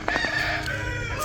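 A farmyard chicken lets out a brief, loud crow-like call up close.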